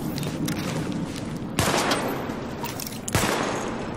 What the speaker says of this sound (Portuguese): Atire nos alvos destacados.